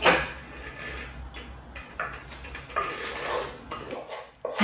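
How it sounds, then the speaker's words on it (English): Cooked quinoa is scooped from a basic electric rice cooker into a bowl, making soft scraping and light clinks of a spoon against the pot and bowl. The sounds are close and quiet, with no talking. "I transfer the quinoa into a bowl"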